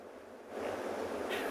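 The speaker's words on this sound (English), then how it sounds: "when I listen to these rapids, I always enjoy the sounds" River rapids in the Masai Mara Serengeti ecosystem rush with a continuous broadband roar that swells after a quieter start, with no voices.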